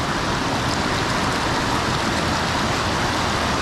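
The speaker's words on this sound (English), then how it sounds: "A couple drops of rain hitting me." Light rain falls outdoors beside Ten Mile Creek, blending with the flowing water into a steady, dense hiss that stays even throughout.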